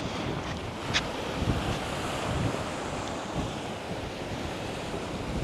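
Strong wind roars across a beach at Maspalomas, blending with steady surf into a loud, continuous broadband rush with a few brief gusts buffeting the microphone.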